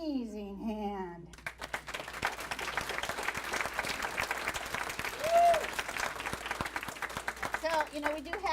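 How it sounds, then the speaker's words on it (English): Volunteers at a city appreciation celebration in Kirkland applaud themselves with a sustained, crackling ovation heard from a distance, with a voice talking briefly before it begins and again as it winds down. "So let's give ourselves an amazing hand."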